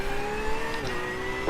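A race car engine in a Nürburgring endurance racing video game holds a steady droning tone. A slower car passes alongside near the end, and the drone stays continuous and moderately loud.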